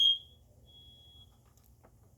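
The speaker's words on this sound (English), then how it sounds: "Smoke alarm." A single sharp smoke alarm chirp rings out at the start and fades quickly, leaving a quiet room with a low background hum.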